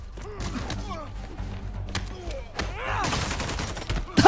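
Gunshots in the game Spider-Man Remastered, a scattered volley of sharp cracks and thuds mixed with whooshing action sounds and voices talking, growing louder and denser toward the end.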